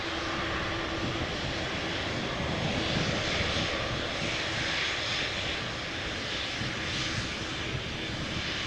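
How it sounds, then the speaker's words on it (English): A KLM Boeing 777-300 arriving at Amsterdam Schiphol produces a continuous distant jet roar that stays at an even level with a slow, gentle swell. "777-300s. The first one arriving from Vancouver, Canada, KLM flight 682."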